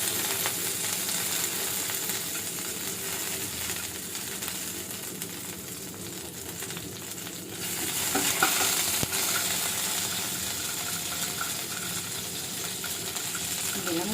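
Curry leaves hitting hot oil for a dhokla tempering, a loud dense crackling sizzle that runs continuously and swells sharply around the middle as more spatters, close up, no talking.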